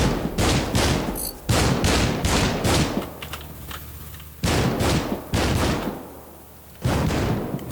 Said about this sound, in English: I'm going towards the explosions.